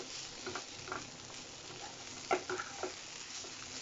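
Grated beetroot chechki, spicy and garlicky, sizzles softly in a pan while a spatula scrapes and stirs it in a few irregular strokes, with one sharper clack midway.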